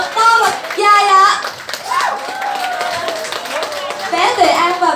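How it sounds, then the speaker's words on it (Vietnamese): Guests applaud at a baby's first birthday party in Vietnam. Bursts of hand clapping rise and fall over five seconds while an emcee's amplified voice and children's voices carry on over it. "Xin mời quý vị hãy dành những tràng vỗ tay thật to và dài ạ."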